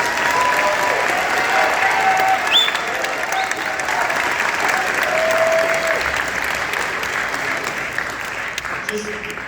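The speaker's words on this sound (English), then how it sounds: "Give them another round of applause." Sustained, dense applause from a large audience at a county band concert for junior and senior students fills the whole stretch evenly, with faint cheers and voices mixed in.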